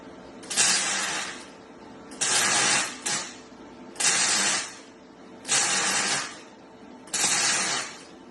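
MIG welding on a car suspension arm mount for a VY skid car build, five close, loud bursts of crackling, hissing arc of roughly one second each, separated by short pauses.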